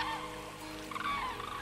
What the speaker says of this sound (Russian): Тысячные стаи серых журавлей кружат в вечернем небе над родными болотами